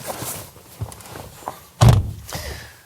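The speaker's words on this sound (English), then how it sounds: "Let's pull back the frameless door and take a look inside" A frameless door on a Mini Electric car pulled open, a few soft clicks and rustles leading to one loud close thunk of the latch and body, then a short fading rattle.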